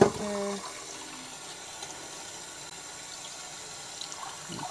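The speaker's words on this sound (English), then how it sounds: "And rinsing them with cold water." Cold tap water runs into a small sink in a tiny washroom while dishes are rinsed, a steady low hiss that is fairly faint and continuous, with no voices.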